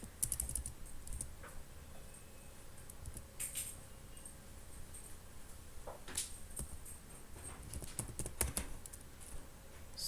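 Quiet, close computer-keyboard typing in bursts of light clicks and taps, with a few louder keystrokes scattered through, entering Python code; no talking over it.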